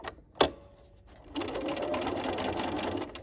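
A sewing machine stitches fabric for a dog leash: a sharp click, a brief pause, then a steady close whirring run of stitching.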